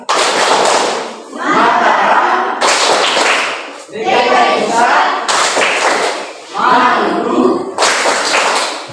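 A group of children in a classroom claps the Tepuk Nusantara rhythm, bursts of loud, close clapping alternating with chanted words in a steady repeating pattern.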